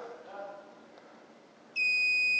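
A garage door opener motor unit, AP 8500, emits a loud, steady electronic beep that starts abruptly near the end, following a faint stretch of quiet background sound.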